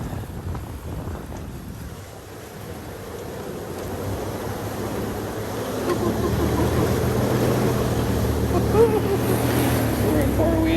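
A four-wheel-drive truck engine labours up a slippery, greasy hill, a low rumbling drone that grows louder and steadier as it climbs, with wind buffeting the microphone throughout.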